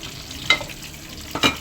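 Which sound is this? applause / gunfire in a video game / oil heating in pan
oil heating in pan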